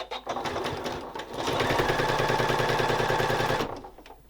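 A sewing machine back stitches a cork fabric wallet: a brief burst of needle clatter, a pause, then a steady, loud run of rapid mechanical stitching that stops abruptly, close up with no talk.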